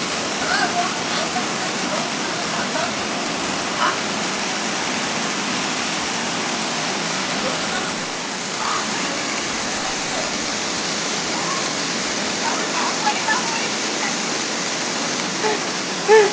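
Bamni Falls in Purulia gives a dense, continuous rushing roar of falling water that stays steady and loud for the whole stretch, with no breaks.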